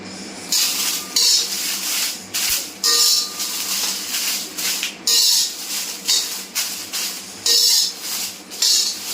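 Byadgi chillies roasting in a pan for a homemade masala make a repeated rhythmic scraping and clattering of a spatula against the pan, with a faint crackle beneath.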